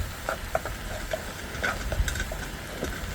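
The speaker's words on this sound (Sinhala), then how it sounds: "ඊට ආපහු මස් ටික කලවම් කරගන්න." Pork stirred with chili in a pot of oil for a red pork curry, with soft, scattered spoon scrapes and taps over a quiet, continuous sizzle.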